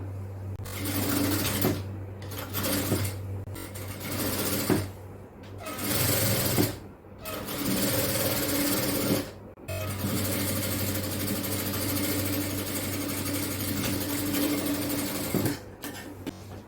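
A sewing machine stitches a nighty sleeve in rapid whirring bursts, stopping and starting several times with short pauses between runs, close and fairly steady in tone.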